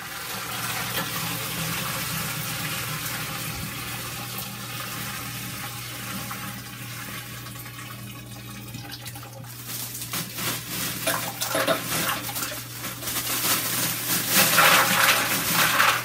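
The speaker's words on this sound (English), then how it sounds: "then I'll fill the rest up with water and actually ice, and until I reach about 6 gallons of volume" Water, together with ice, pours into a brew kettle while making a gluten-free lager from extract, topping it up to about six gallons. The steady rushing gush runs throughout and grows louder toward the end.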